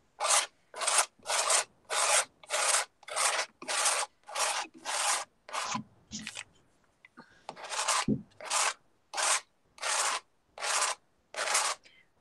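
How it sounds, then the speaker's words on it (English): A tool scrapes paint across a mixed media canvas in a steady series of about fifteen rhythmic, harsh rasping strokes, close and loud, with a short irregular pause midway before the regular strokes resume. "Now I'm starting to scrape harder"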